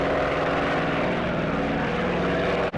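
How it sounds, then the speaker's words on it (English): Steady droning roar of Boeing B-17 Flying Fortress piston engines in a flight simulator, loud and continuous with an even propeller hum and a brief dip near the end. "Boeing B-17 Flying Fortress aircraft."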